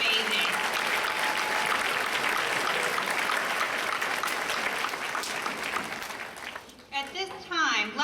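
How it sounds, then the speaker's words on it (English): A large audience applauds staff members at a school district employee-of-the-year red carpet event, a dense sustained wash of clapping that fades out near the end, giving way to a brief voice. "Let's give them all a round of applause because that's pretty amazing."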